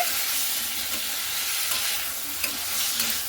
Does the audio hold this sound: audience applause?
no